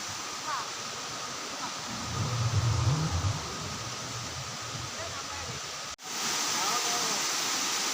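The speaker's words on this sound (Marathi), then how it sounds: "ह्यो छोटोसो धबधबा" Small waterfall in the Konkan region near Dajipur, a steady hiss of falling water close by, with a brief low murmur of voices partway through and a short dropout before the rush resumes.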